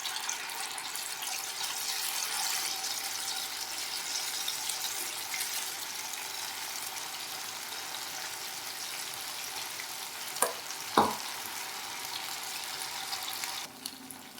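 Paneer cubes deep frying in hot oil, a faint steady hiss and bubble running throughout, with a couple of brief clinks near the end.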